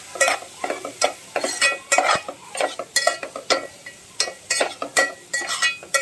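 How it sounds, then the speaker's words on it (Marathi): Masala of turmeric and chili powder frying in a little oil for coriander vadi, stirred with a spoon: close, repeated scraping strokes in an uneven rhythm over a soft, steady sizzle, with no voices. "थोडासा तेलावरती मसाला झाला फ्राय"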